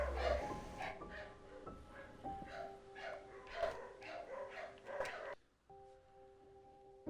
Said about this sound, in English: I just hear my dog in the background just